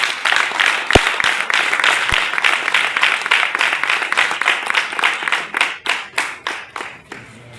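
A crowd at a Les Démocrates party rally in Abomey-Calavi claps in a steady rhythmic beat, many hands together, loosening and slowing toward the end.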